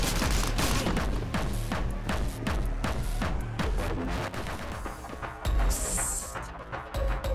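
Rapid pistol gunfire in the video game Anger Foot, a dense barrage of punchy shots over loud game music and effects, continuous and close throughout.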